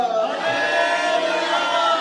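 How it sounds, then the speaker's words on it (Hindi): A church congregation shouts hallelujah loudly and in unison during a Hindi-language worship service, a sustained, dense wall of many voices crying out together at close range. "चिल्ला के बोलो हालेलुया, जोर से बोलो हालेलुया"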